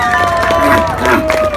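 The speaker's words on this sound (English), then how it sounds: "another round of applause for such a devious act." Audience at a Halloween haunt circus show at Canada's Wonderland, loud crowd cheering and applause under a performer's amplified voice talking throughout.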